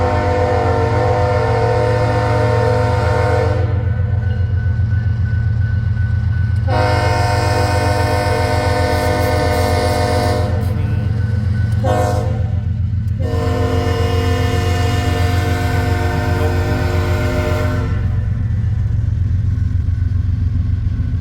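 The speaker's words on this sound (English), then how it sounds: "this train is literally following Amtrak right now" A freight train rolls loudly past at Hobson Yard in Lincoln, Nebraska, late at night, its heavy rumble continuous and close, with long sustained horn blasts sounding several times as it passes.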